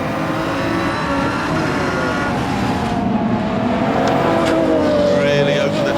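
Pagani Zonda R race car, a 2009 model with 938 hp, accelerating hard on the Nürburgring in Gran Turismo 7, its engine a loud, continuous, rising roar with a narrator talking over it throughout.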